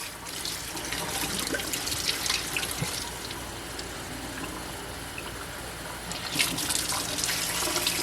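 Hot tap water runs steadily into a sink while a hummingbird feeder is rinsed, a continuous close splashing flow with brief surges of spatter.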